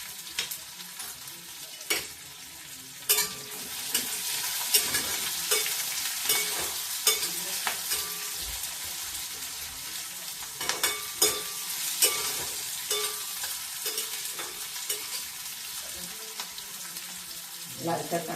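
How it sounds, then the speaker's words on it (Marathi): Urad dal and green chillies frying in oil for rava upma, a continuous close sizzle punctuated by frequent spoon scrapes and taps against the pan. "आणि तेलातच 1 टेबलस्पून उडदाची डाळ घालून घ्या"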